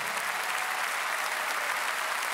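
Sustained applause from a large arena concert audience cheering a guitarist during a band's live show, a dense, even wash of clapping heard at some distance without a break.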